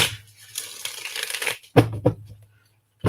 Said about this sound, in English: Please shuffle one more time.